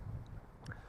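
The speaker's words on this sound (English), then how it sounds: "A little bit windy, which is why you might hear some noise in the background as I keep talking." Soft, low wind noise rumbling against a microphone outdoors in Arizona, faint and continuous, with a couple of tiny high chirps in the background.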